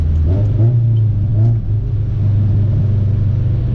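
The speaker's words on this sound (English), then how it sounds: "Hear that downshift, right?" A B20-swapped Honda Civic engine drones close inside the car, with a brief rev swell and pitch changes around a downshift before settling into a steady low hum.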